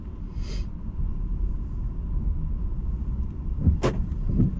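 Polestar 2 electric car pulling away on a test drive, heard from inside as a steady low road rumble with a soft whoosh near the start and a couple of brief knocks near the end.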